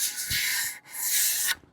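A 60 grit pad sands the edge of a porcelain tile in two short rasping strokes with a brief pause between them, close and fairly quiet.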